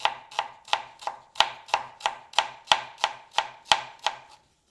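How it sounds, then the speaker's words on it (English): Red onions sliced thinly by hand with a knife, about a dozen crisp, evenly spaced chops striking a cutting board, close and clear with no talking. "we'll just slice them up thinly by hand."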